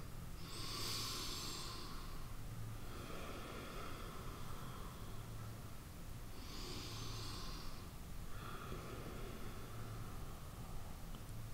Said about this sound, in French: On inspire d'un côté, on expire de l'autre.